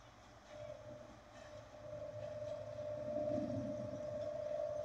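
Green Line DN passenger train passing through Rohri railway station in Pakistan, a steady rumbling roar with a sustained tonal hum that builds slightly and stays loud throughout, with no voices.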